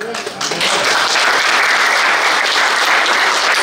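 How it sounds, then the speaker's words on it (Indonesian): Audience applause at a Christmas and New Year gathering, a dense wash of clapping sustained for several seconds after a brief quieter start, with some voices mixed in. "Jangan usah tepuk tangan"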